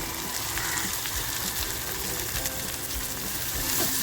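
Chopped onion hits hot oil in a pan for methi prawns and fries with a steady, close, dense sizzle that stays constant throughout, with no talking.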